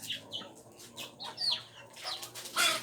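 Chickens cluck in a short run of close, sharp calls, several birds chattering over a quiet background.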